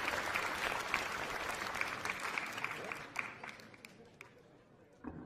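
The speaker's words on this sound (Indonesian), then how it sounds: "Tepuk tangan buat Iwan." An audience applauding for a boy during a magic show scene in an Indonesian film, a fairly quiet crowd clapping that thins out toward the end, with a few closer claps.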